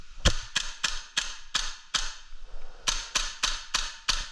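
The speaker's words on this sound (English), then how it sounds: "it fired a shot, so it's backing up and working" A Novritsch SSQ4 airsoft gun fires a series of sharp, close cracks, about a dozen shots in an uneven rhythm with brief pauses between bursts.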